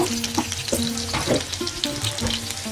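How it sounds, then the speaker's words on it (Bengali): Chopped onion and green chili fry in oil, a close crackling sizzle broken by repeated scraping strokes of a spatula against the pan. "এখন আমি ভালো করে এগুলো ভেজে নিব"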